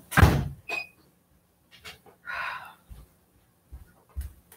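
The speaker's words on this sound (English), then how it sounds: "Y'all probably heard him knocking. Bam, bam, bam, bam, bam." A dog thumps against a door from inside a home, producing a few scattered, irregular bangs and knocks up close, with a brief rustling scrape in the middle and quiet gaps between hits.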